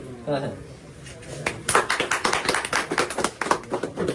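An audience at the opening of a cricket bat showroom breaks into a quick patter of hand clapping that follows a brief spoken prompt, the claps are close and moderately loud and fade out after a few seconds.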